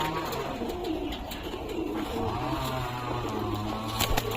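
Jiriya pigeons in a loft, a male giving soft, low rolling coos that repeat against a faint, steady background hum, with no voices.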